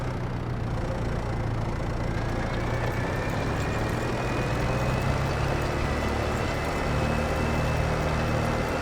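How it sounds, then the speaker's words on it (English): Steady, loud drone of a tractor engine from Farming Simulator 22, with a broad rumbling and a faint high whine that holds constant throughout while the tractor discs a field. "listen to the tractor, watch me disc a field"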